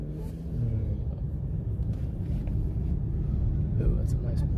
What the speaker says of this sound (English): that's a nice Porsche coming up